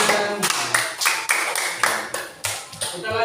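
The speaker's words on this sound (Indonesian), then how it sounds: "kita beri tepuk tangan ya" Schoolchildren in a lower-grade elementary classroom clap their hands together in a quick, patterned rhythm, loud and close, with voices mixed in among the claps.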